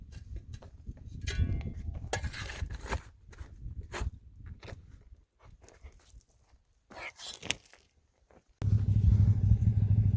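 A Can-Am off-road vehicle pulls up on a rocky Saddle Mountain slope in Central Washington. Its engine bursts in loud and close near the end, after scattered footsteps, clatter and brief talk.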